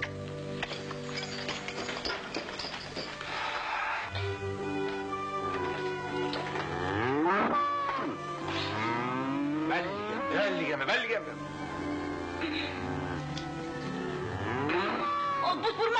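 A cow moos in long, drawn-out, wavering calls that rise and fall across the scene, loud and sustained over a steady background, in a Spanish-language rock-and-roll comedy film.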